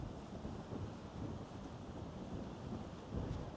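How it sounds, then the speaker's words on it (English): Strong wind buffets the microphone outdoors during a fishing trip for rainbow trout, a steady low roar of gusts with no speech, swelling slightly near the end. "I don't know how the audio quality is with the wind blowing like this"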